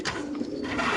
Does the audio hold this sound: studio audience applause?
no